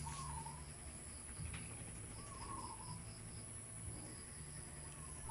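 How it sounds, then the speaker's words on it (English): Birds feed at papaya outdoors, giving faint, repeated short chirps and calls over a steady insect and cricket drone. There is no speech. "it's so nice to hear that beautiful sounds of the birds that was producing"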